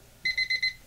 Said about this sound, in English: So that's my little egg timer.